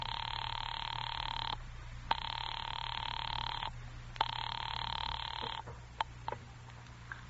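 An old telephone bell rings in long repeated bursts with short gaps between them, loud and close, followed by a few faint clicks.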